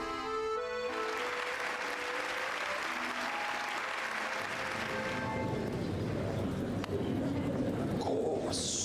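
A crowd applauds in the Hollow Knight video game, steady clapping throughout, with a musical tone underneath and bird-like cooing.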